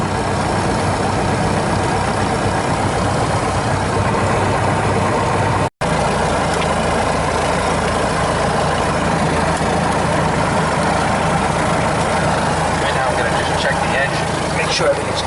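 A small airplane engine idles steadily and close throughout, a continuous low rumble with a brief dropout partway through and no talk over it.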